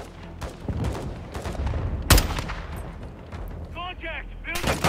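Gunfire from Call of Duty: Modern Warfare 2, with rapid rifle shots cracking over ongoing battle noise and one sharp, loud blast near the middle. Faint radio-style chatter comes in toward the end.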